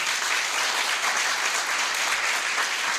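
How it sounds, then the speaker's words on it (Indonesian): A seminar audience claps steadily in a dense, loud, sustained wave of applause that fills the whole moment with no voice over it. "Beri aplaus buat Anda semua saat ini"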